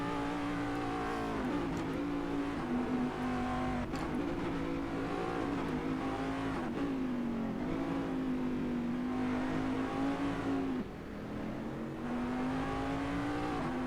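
A race car in a sim racing game on the Nordschleife, its engine droning steadily and loud with pitch swings as it shifts, including a misshift, with a brief dip near the end before the revs climb again.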